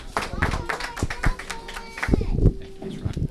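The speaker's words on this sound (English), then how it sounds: "please give her a round of applause" Scattered clapping from a small crowd at a Delaware County officials' meet and greet, irregular hand claps near and far with speech overlapping, thinning out toward the end.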